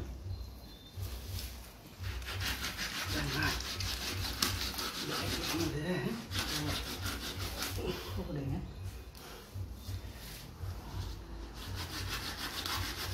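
Knife cutting through a large freshwater fish from the back toward the tail, a steady rough rubbing, sawing scrape that carries on throughout, close up over outdoor market background noise.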